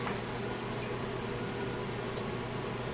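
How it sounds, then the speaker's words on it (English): Darkroom chemical dripping off a photographic print lifted from the fixer tray, soft wet drips and trickles over a steady hiss of running water, close and continuous. "Let all the chemical drip off"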